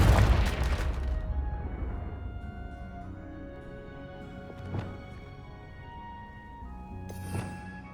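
A Confringo spell explosion in Hogwarts Legacy, with a loud booming blast at the start that decays into a ringing tail, followed by two fainter sharp impacts later.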